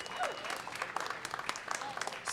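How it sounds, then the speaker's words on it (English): Scattered applause from a modest audience after a panel discussion of Boston poets, fairly quiet with individual claps standing out irregularly and some faint voices mixed in. "Can we get one more round of applause for that amazing panel discussion we just produced?"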